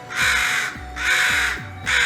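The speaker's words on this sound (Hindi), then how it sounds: "कौवा लगातार गाना गाए ही जा रहा था।" Crow cawing as a sound effect in a Panchatantra fable: three loud, harsh, drawn-out caws in steady succession, close and prominent, with no voices.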